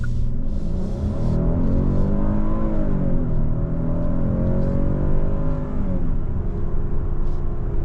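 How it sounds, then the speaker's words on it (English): Engine of a 2026 Hyundai Palisade while driving: a close, steady hum with tonal harmonics that rise and dip with engine speed, then settle into a level drone under road noise. "So we can hear the engine. It levels off."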